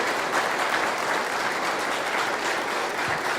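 Dense, steady applause fills a church hall as a congregation claps for young people at a youth service in Aquidauana, Mato Grosso do Sul, a loud, even wash of many hands with no break.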